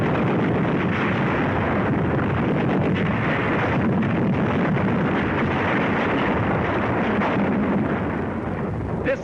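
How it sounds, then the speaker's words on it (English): Battlefield in North Africa during WWII, with enemy snipers and machine guns firing on infantry positions: a dense, continuous rumble of distant gunfire and blasts, heavily roughened by wind buffeting on the microphone. "Enemy snipers machine gun our infantry positions."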